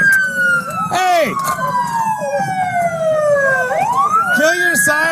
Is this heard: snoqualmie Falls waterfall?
no